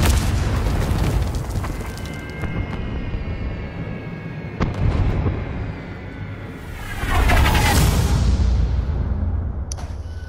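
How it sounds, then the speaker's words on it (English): Explosions in the Call of Duty Vanguard video game, a dense wartime battle soundscape with repeated loud booms and crackling blasts over a constant rumble, swelling into a big roaring burst near the end. "There's too many explosions."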